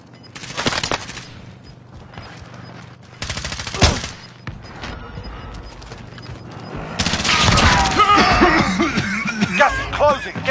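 Bursts of automatic gunfire in Call of Duty Warzone, loud rapid fusillades in short clusters and then a longer sustained volley, with in-game voice lines between the shots.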